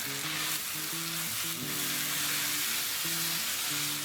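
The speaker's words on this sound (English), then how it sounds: "Stir fry briefly over high heat." Chinese leaf lettuce stir-fries over high heat in a wok for a Sichuan beef in chili broth dish, making a constant loud, hissing sizzle with a soft tune running steadily beneath it.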